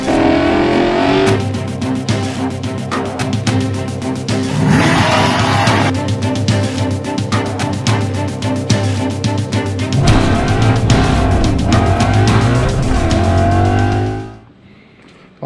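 An 800 HP Shelby Super Snake engine in a Foxbody Mustang roars loud and close, a heavy rumbling idle with revs rising and falling, sustained for a long stretch before cutting off abruptly.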